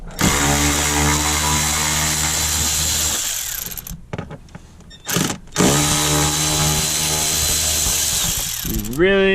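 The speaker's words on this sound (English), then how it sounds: "Really don't know how helpful this ratchet is until you're trying to do this stuff out on the trail by hand" A power ratchet spins a fastener during clutch removal on a Can-Am X3, a loud steady harmonic whir that runs for about four seconds, breaks off into clattering, then starts again, close up.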